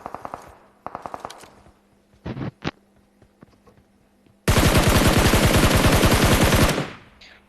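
Video game gunfire rings out as several short, sharp bursts, then a loud, sustained automatic burst lasting a couple of seconds before it cuts off. No one speaks.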